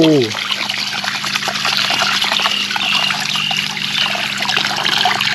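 Running water splashes steadily over a caladium tuber as it is rinsed, a continuous close trickle and wash lasting throughout.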